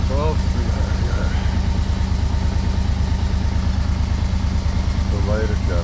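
A 1991 Yamaha Venture Royale motorcycle engine idles steadily and loud nearby, running without the choke, a constant even drone throughout with someone talking over it.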